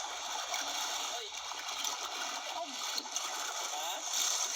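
Seawater at high tide splashes and gurgles along the shore, close and continuous, with occasional louder sloshes. Speech is faint in the background.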